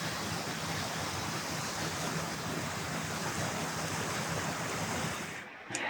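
Cumberland Falls waterfall on the Cumberland River, a steady broadband roar of falling water that stays constant and loud before cutting off briefly near the end.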